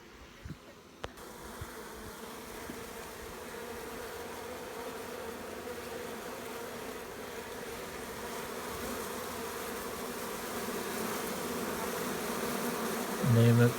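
Honeybees in a shipping package buzz loudly and steadily at close range, a dense droning hum that holds for the whole stretch with a brief knock near the start and a louder rustle at the end.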